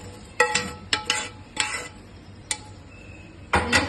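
Seasoning for gongura chutney crackles and pops in hot oil, with several sharp spattering bursts separated by quieter sizzling gaps and no talking.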